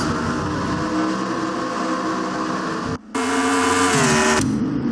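A NASCAR racing video game car spins out at a road course, its loud engine droning steadily, dropping out for a brief moment near the middle, then returning with a rising whine before settling.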